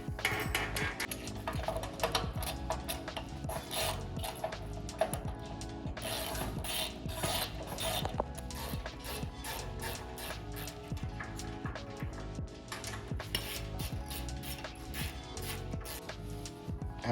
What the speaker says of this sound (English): tighten the 4 bolts at either end